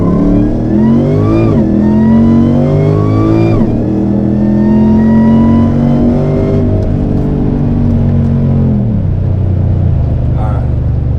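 A Jeep with a SmoothBoost setup and traction control on accelerates hard during a drive-along, its engine climbing through rising revs with gear-change dips and a loud, steady roar close inside the cabin.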